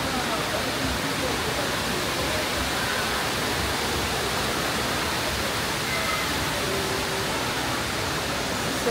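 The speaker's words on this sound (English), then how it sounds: "So over there is second part of waterfalls." A waterfall at a free attraction near Dubai Mall roars as a steady, loud, broadband rush that stays constant throughout, filling the whole soundscape.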